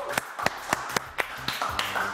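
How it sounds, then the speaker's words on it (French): Sparse claps ring out for the actors on a French television show, roughly eight distinct hand strikes in a fairly steady beat, close and crisp rather than a full roaring ovation. "On va les applaudir très très fort aux comédiens de la fourchette de Pétula."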